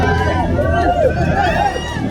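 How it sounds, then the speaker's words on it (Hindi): A large crowd of supporters lining both sides of a road during a roadshow, a dense continuous hubbub of many voices with cheering and chatter, close and loud. "इस दौरान सड़क के दोनों ओर समर्थकों की भारी भीड़ जुट गई।"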